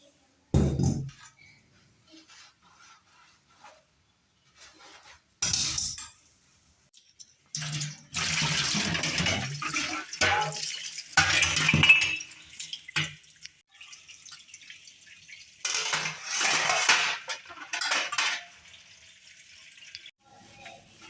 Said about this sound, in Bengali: বড় কাজ শেষ, বাসন মাজা।